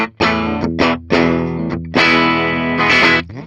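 Gibson Flying V electric guitar played through its bridge pickup with heavy distortion and chorus, a few short chord stabs followed by a longer sustained chord, loud and close, with no voices.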